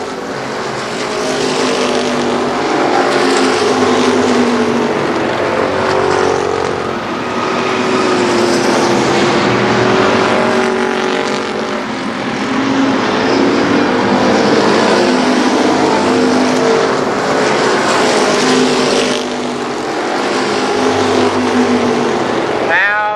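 Super late model race cars circling Columbus Motor Speedway in a 1995 feature, engines droning loud and continuous with harmonic whine rising and falling as the pack passes, an announcer talking over the roar.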